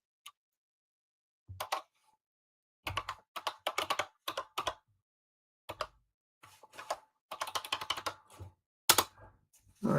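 Keys clatter on a computer keyboard in close, irregular bursts of typing separated by short pauses, with no voice heard.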